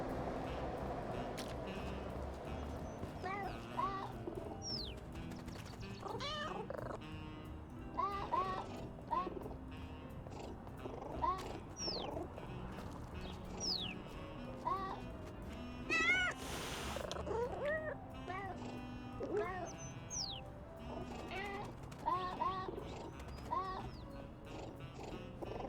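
Short meows from the cat in the video game Little Kitty, Big City rise at scattered moments over soft game ambience, fairly quiet throughout and separated by brief gaps.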